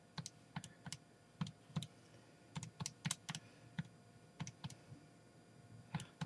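Numbers are typed on a computer keyboard for a probability calculation, with a series of close, crisp key taps in irregular bursts separated by short pauses.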